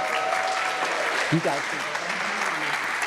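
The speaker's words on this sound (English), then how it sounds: "Let's give them another round of applause." Audience applause at a community village event, a sustained crowd clapping throughout with a voice speaking briefly over it partway through.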